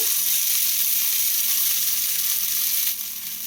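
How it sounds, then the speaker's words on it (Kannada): A flipped green gram dosa sizzles steadily on a hot pan, a loud continuous frying hiss that holds for about three seconds and then drops slightly softer. "ಇದನ್ನ ನಾನು ಸ್ವಲ್ಪ ಉಲ್ಟಾ ಮಾಡಿಕೊಂಡು ಬೇಯಿಸ್ಕೊತಾ ಇದ್ದೀನಿ"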